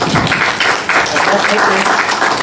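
Applause from an audience at a city council regular session, dense clapping held steadily at close range for a couple of seconds.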